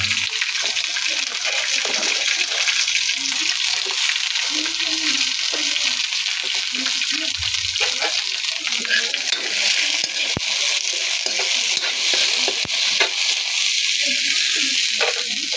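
String beans are added to ginataang hipon, shrimp simmering in coconut milk in a pan, with a loud, continuous close bubbling sizzle and occasional soft stirring and faint clicks.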